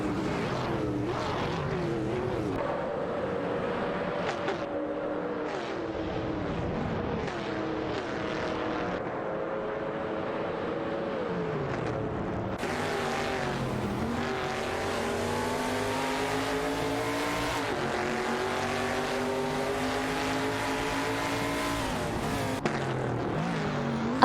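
Several race cars in a video game, including an AMC Matador and a 1972 Ford Torino, roar continuously with rising and falling engine revs and overlapping gear changes as they battle for position.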